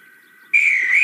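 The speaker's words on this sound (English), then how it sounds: "The replica listened and waited for the guard to blow his whistle." A guard's whistle at a station in a Roblox train game, a single loud, steady shrill blast that starts abruptly after a faint, thin tone and holds to the end.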